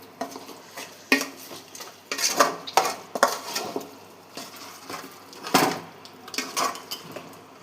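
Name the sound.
stirring chicken fry in pan on low flame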